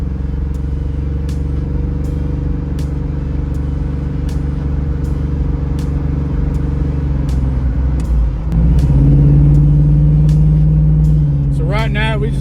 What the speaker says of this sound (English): So right now we're just doing a little test drive.